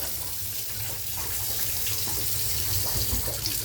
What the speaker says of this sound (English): Got to turn on the water